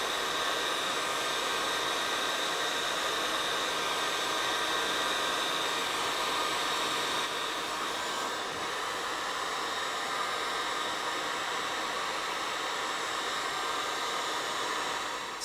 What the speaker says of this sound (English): I'm gonna try to put a heat gun to this before I apply the coating